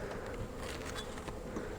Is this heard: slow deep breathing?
no